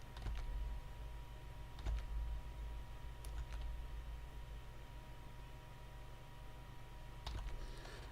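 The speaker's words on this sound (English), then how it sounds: "just by me tapping right on my keyboard loads of times" Faint scattered taps on a computer keyboard during photo editing in Adobe Lightroom, a few isolated clicks spaced seconds apart over a steady low hum.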